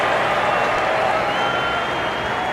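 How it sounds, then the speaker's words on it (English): Crowd at a South Africa versus Australia Test cricket match cheering and applauding, a dense steady roar of clapping and voices filling the whole stretch. "gives the crowd something to cheer about"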